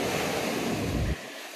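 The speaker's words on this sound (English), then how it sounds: "if you hear the waves crashing, then you know I'm at a really nice beach" Waves crash at Veerampattinam beach near Pondicherry, a loud broadband roar of surf mixed with wind buffeting the microphone, easing off slightly toward the end.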